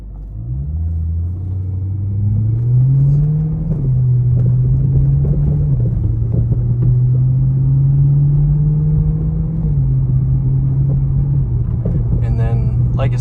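2011 BMW M3 Competition engine while driving, a loud, steady low rumble whose pitch rises and dips through gear changes as the car slows toward a stop and shifts back down.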